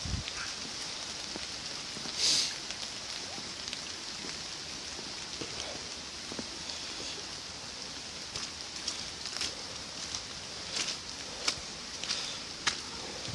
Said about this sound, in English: there's a small little waterfall, because obviously it's been raining quite a lot recently. It's flowing quite well today.